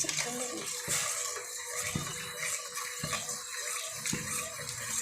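Dissolved herbal mixture of mango leaf, omavalli and tulsi poured into a pan for halwa, a wet splashing pour with clinks of utensils, close and moderately loud.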